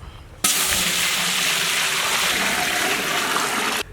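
Water gushes out steadily and close by, a continuous rushing pour that begins abruptly and runs unbroken to the end.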